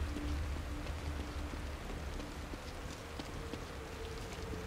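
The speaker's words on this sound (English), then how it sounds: "Rain is gonna wash away any evidence." Steady rain falls in a game setting, a dense continuous hiss with scattered patter of drops, even in level throughout and with no voices.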